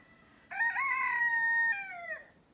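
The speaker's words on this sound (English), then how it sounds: "Yeah, many roosters here." A rooster crows once in a long, drawn-out call with a sustained middle, clear and fairly close over quiet background noise.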